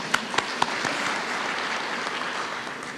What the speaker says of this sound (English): I think we should all applaud the university for that